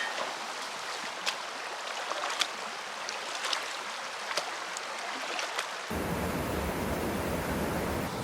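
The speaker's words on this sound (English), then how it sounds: "Is that a waterfall?" A waterfall in Iron County, Wisconsin, gives a steady, full rushing hiss that runs unbroken, a little nearer and louder in the final seconds.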